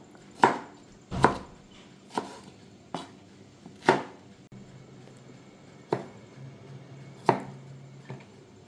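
Knife cutting a small peeled ash gourd on a board, about eight sharp, distinct chops spaced irregularly, close and clear over a quiet background.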